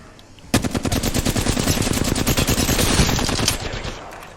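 Automatic gunfire in the video game Apex Legends: a sustained, rapid burst of shots lasting about three seconds, loud and close, then trailing off.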